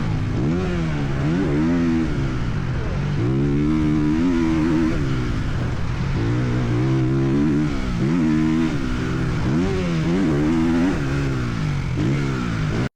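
Motocross bike ripping around a dirt track, its engine revving up and down in repeated surges as the rider shifts and accelerates, loud and close with little wind noise.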